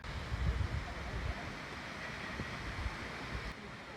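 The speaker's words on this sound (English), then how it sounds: "I think I can hear a waterfall" Steady rushing water roar of a waterfall on a hiking trail, heard from a distance as a constant broadband wash with some wind buffeting the microphone.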